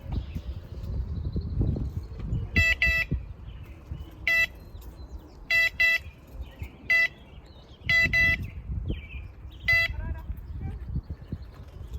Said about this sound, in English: Look at this horn putting in work.